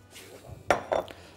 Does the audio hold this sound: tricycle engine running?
no